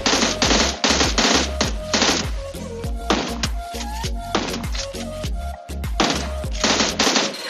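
Rapid UZI bursts and heavy shotgun blasts fire nonstop in a PUBG Mobile firefight in Pochinki, with dense, loud, overlapping reports and barely any pause over several seconds.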